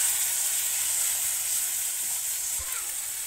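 Spiced mustard fish curry masala frying in a pan, a steady loud sizzle and hiss that holds evenly throughout with only a faint scrape near the end.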